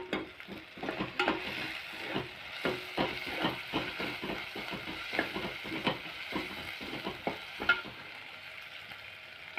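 Ingredients for an egg thokku sauté in a hot pan, with a steady close sizzle broken by frequent scraping stirs and clinks of a spatula against the metal throughout.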